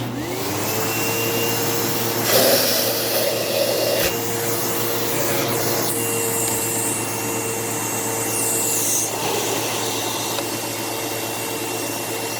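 A Shark Navigator Freestyle cordless stick vacuum, repaired for loss of suction, runs continuously with a steady whining motor and rushing airflow, close and loud, its pitch shifting slightly as the intake is covered and uncovered.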